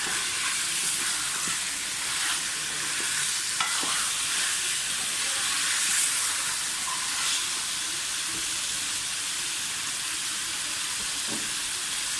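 Potato slices fry in hot oil in a pan, a steady bright sizzle that runs the whole time, with a few soft stirring scrapes and clicks and no talking.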